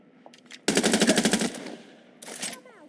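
Video-game automatic gunfire in Watch Dogs: Legion, a loud rapid burst lasting under a second, then a shorter second burst after a pause, with faint clicks before.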